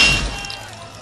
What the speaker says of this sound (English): Moses smashed the golden calf and beat it into powder.